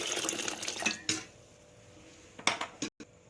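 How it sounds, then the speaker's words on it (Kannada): Water splashes and clatters into a pressure cooker holding cut vegetables for sambar in a home kitchen, with a steady pour early on, then a pause and a few short splashes and metallic knocks near the end. "ನೋಡಿ ಸ್ವಲ್ಪ ನೀರು ಹಾಕೊತೀನಿ"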